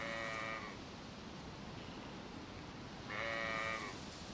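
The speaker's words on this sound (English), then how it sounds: "That is sheep." Sheep in the DayZ survival game give two separate bleats, one at the start and one near the end, each fairly close and clear over a steady outdoor wind-like hiss.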